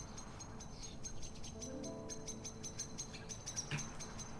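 Chirping birdsong from the snowy level of the video game Human Fall Flat: repeated short high tweets over a soft, steady ambient bed, faint and slightly distant.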